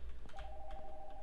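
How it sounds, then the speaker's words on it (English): A telephone upstairs rings in the video game Nocturnal Visit, a single faint steady electronic tone starting a moment in and holding over a low rumbling ambient background. "The phone from upstairs is ringing."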